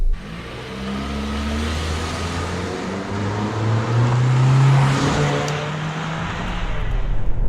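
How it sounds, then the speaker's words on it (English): A 2022 Toyota Corolla Cross compact SUV on the move, with a steady engine drone and road noise from the cabin that swells as it accelerates and eases through gear changes toward the end. "So let's go for a drive."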